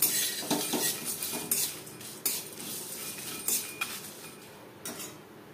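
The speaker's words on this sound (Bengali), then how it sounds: "মশলা আমি হালকা করে ভেজে নেব।" Whole spices (nutmeg, cinnamon, cloves, cardamom, coriander, cumin) fry lightly in a pan, dominated by repeated metallic clinks and scrapes of a utensil stirring them, with only a faint sizzle beneath.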